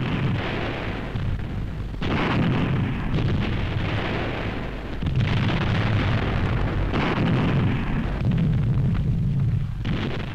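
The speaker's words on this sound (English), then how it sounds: "Self-propelled guns of the 1st Canadian Army open the offensive for the Hochwald Forest." Self-propelled guns of the 1st Canadian Army fire a WWII artillery barrage opening the Hochwald Forest offensive, a dense, continuous roar of heavy booms and rumbling blasts that swells in waves for the whole stretch, with no talk.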